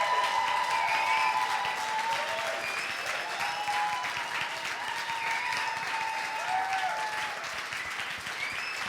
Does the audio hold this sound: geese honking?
no